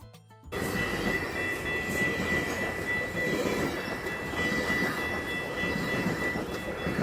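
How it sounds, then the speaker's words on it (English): A train rolls past near a lake shoreline along the Ogden route, a loud continuous rumble of wheels on rails with faint clatter and a high squeal, starting abruptly and holding steady throughout. "Here's a train. Go train."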